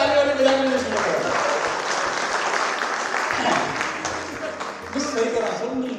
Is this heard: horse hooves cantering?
no